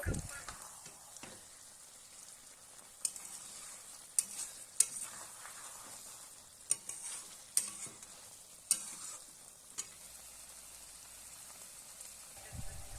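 Spices being cooked down in a pan with a splash of water for a chicken and jackfruit curry give a soft, steady sizzle. Occasional sharp clicks and scrapes of stirring punctuate it, fairly quiet and with no talking.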